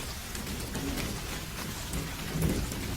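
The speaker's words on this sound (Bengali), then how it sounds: "দেখলাম মতিদা বৃষ্টির মাঝে দৌড়ে এসে দোকানে ঢুকলো।" Heavy rain pours steadily as a storm effect, with low thunder rumbling underneath, dense and continuous with no voices.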